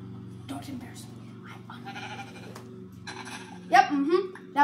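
Sheep bleating in the Minecraft video game, a short burst near the end rising over steady background music and voices talking throughout.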